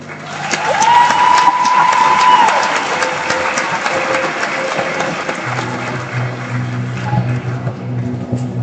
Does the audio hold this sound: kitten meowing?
no